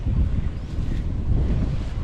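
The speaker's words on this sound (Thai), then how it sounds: "ลมแรงนิดหนึ่งกับบรรยากาศฝนตกตก" Strong wind gusts on a rainy day, roaring steadily and close with a low rumble throughout, with no voices.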